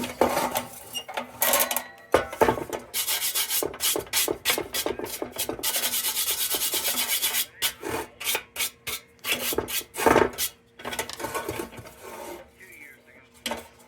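A brass brush scrubs an old Embury Air Pilot metal railroad lantern in rapid, close, harsh bursts of bristly rasping, pausing briefly between strokes, with a faint radio murmuring in the background.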